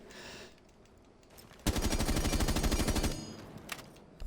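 A rapid burst of automatic gunfire in the video game Rainbow Six Siege rattles loudly for about a second and a half, a dense string of sharp shots framed by quieter game ambience.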